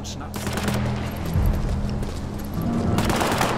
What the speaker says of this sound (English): The fuck they shooting at?